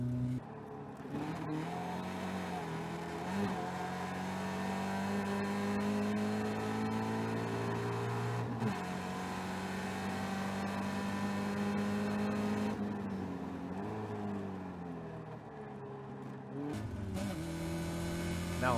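Onboard a Caterham race car at Oulton Park heading down to the Knickerbrook chicane, the engine drones loudly and steadily, rising and falling through revs with sharp gear-change dips.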